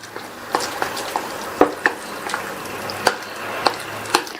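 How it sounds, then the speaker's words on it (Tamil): A utensil stirs wheat flour appam batter with water in a bowl, making soft wet swishes punctuated by irregular light clicks and taps, with no one speaking. "அதே மாதிரி கட்டி இல்லாமையும் மாவை நல்லா இந்த மாதிரி கலந்து விட்டுக்கணும்"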